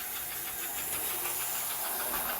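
Steady, dense hiss from an American Flyer K5 Pacific 312 toy steam locomotive running with the throttle cranked, a continuous close rushing noise with a faint mechanical rumble underneath and no pauses.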